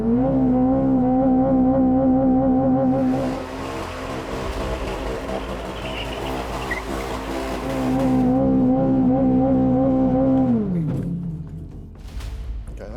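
A Chevrolet Corvette ZR1X at full power in a burnout, its engine droning loud and steady for several seconds with tire noise rising over the top, then the revs fall away near the end.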